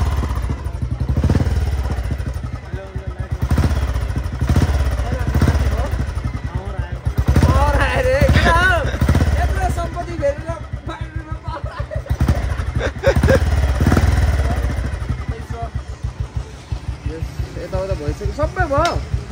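A Royal Enfield Bullet motorcycle engine misfiring, close and loud, with a thumping single-cylinder rhythm broken by repeated sharp pops and crackles that come in bursts through the whole stretch.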